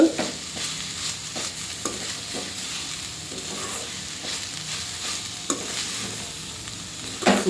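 Beetroot halwa being stirred in a pan, a spoon scraping in repeated strokes over a steady soft sizzle, close and alone with no voices.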